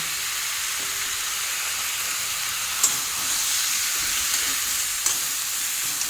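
Winter vegetables and dried fish fry in hot oil, giving a steady, close sizzling hiss throughout with a couple of brief clinks of stirring and no talk.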